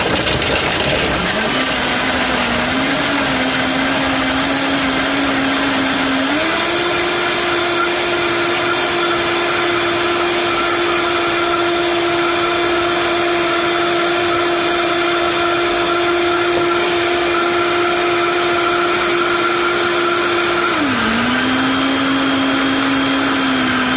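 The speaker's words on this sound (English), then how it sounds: "All right, so I'm gonna blend this. Cover your ears." A Vitamix blender runs loud and close on a wolfberry meal replacement smoothie, a continuous high whine that climbs in speed, holds steady, then drops slightly near the end.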